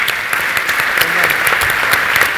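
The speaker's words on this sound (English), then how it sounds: "please, an applause for this great panel" Audience at a business conference applauds a panel, with loud, dense, continuous clapping and a few sharper individual claps standing out.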